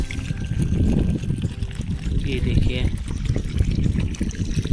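Water pours and splashes into a planting pit being filled in an orchard, a continuous gushing trickle heard under someone speaking.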